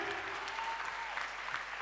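A church congregation applauds at a worship service, a steady dense clapping that fills the whole stretch without pause.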